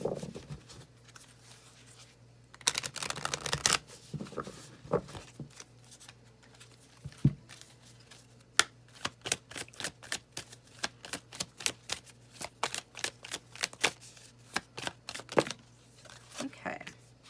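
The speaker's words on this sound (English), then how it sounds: "Feeling guided to shuffle again." Tarot cards are shuffled by hand in quick bursts of crisp riffling and flicking, ending in a long run of rapid, sharp snaps close to the mic, with quieter stretches and occasional soft handling noises between them.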